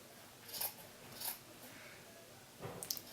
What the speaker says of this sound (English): scissors and you just want to cut it about an inch or so